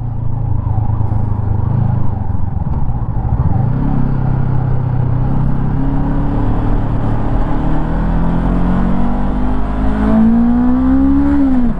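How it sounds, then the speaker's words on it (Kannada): A 2024 Honda NX500 adventure touring motorcycle with a 500cc parallel-twin engine is heard while being ridden. The steady engine drone dips briefly, then climbs as the revs rise, loud and close over continuous wind. "ಇದು 500cc ಪ್ಯಾರಲಲ್ ಟ್ವಿನ್ ಇಂಜಿನ್ ಇದು."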